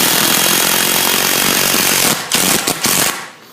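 A power screwdriver drives screws to fasten the top plate of a small wooden playhouse, a loud continuous whirring buzz that runs steadily and then breaks into a few short bursts before stopping.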